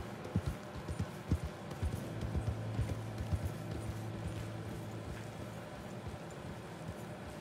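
A horse gallops in Red Dead Redemption 2, its rapid rhythmic hoofbeats thudding steadily and moderately near, with no talking over them.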